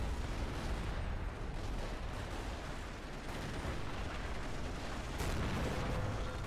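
Infantry gunfire in a World War II strategy game, a dense continuous roar of rifle and artillery fire with blasts layered throughout, loud and steady with no speech.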